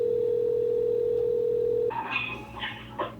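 A steady phone dial tone plays through an outdoor speaker during a call, holding a single unbroken pitch for about two seconds before cutting off into brief, busier line sounds.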